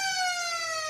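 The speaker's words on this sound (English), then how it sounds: "So you hear the siren." A siren sounds at an under-15 girls' football match, a loud steady tone with bright harmonics held for the whole second, heard alone.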